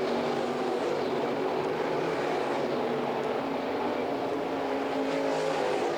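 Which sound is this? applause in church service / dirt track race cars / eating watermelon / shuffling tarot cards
dirt track race cars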